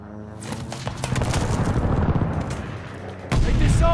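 Video game combat with hostile strafing gunfire, a swelling roar of rapid shots and blasts that builds, dips, then surges louder again in the final second.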